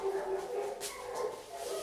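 Several puppies bark and whine somewhere off in the room, brief yips and a sharper bark breaking through a soft, constant background hum.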